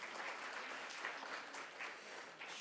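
An audience applauds to welcome a donor's family member onto the stage at a body and eye donation ceremony in India. Steady, even clapping from a crowd, heard from a distance and soft throughout.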